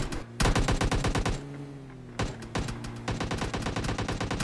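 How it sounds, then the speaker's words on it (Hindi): Rapid automatic gunfire in the mobile shooter game PUBG Mobile Lite, loud dense bursts with a brief lull in the middle before firing resumes. "तो देखिए कैसे फायर करता है मेरे ऊपर।"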